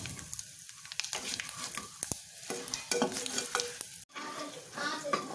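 A spice tempering sizzles in a pan with asafoetida added for tamarind rasam, a bright close crackle broken by spoon scrapes and stirring and a short pause near the end.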